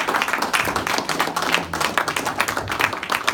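Audience applause after a speaker's talk, a crowd clapping steadily and fairly close, with a few sharper individual claps standing out and a faint voice or cheer underneath.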